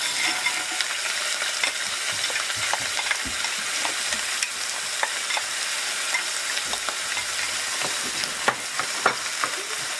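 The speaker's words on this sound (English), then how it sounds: "So I'm gonna let this saute for about 2 minutes" Beef tips and green beans sauteing in a hot pan, a steady loud sizzle and frying hiss with occasional stirring scrapes and pops throughout, no voices.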